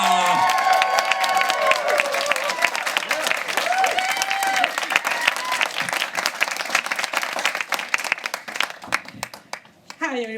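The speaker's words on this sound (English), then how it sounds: "I commend to you, audience, these wonderful people, and a big cheer, please, for Claudia Munera." An audience at a stand-up comedy show claps and cheers steadily for a comedian taking the stage, loud sustained applause with a few whoops that thins out at the very end.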